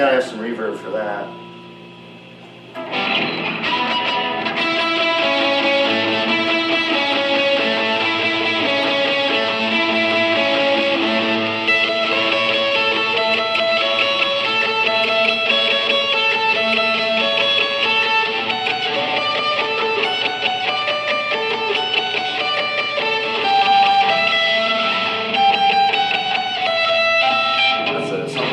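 Electric guitar, a Samick LN-10 "Linda", played through a Blackstar HT-20R amp with reverb; chords and notes ring out steadily and continuously for nearly half a minute after a short quieter opening, with no talking.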